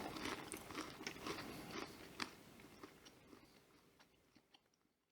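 Close-up crunching and chewing of homemade caramel apple Crackerjacks, a rapid run of crisp bites and munching that gradually grows quieter over several seconds, with no speech.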